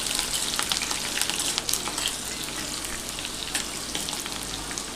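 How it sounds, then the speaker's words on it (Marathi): Green chillies fry in hot oil alongside fried peanuts for rava upma, giving a continuous close crackling sizzle with small pops throughout and no talk. "इथे हिरवी मिरची देखील फ्राय करून झालेली आहे"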